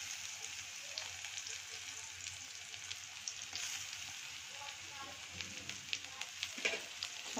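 Crushed garlic frying with browned onions in a pan, a soft, steady crackling sizzle heard up close with a few small pops and light stirring sounds, no voices.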